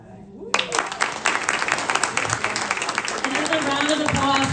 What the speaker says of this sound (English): Another round of applause for all of our candidates for stepping up and being on the ballot.